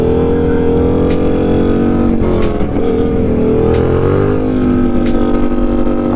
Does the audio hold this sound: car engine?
yes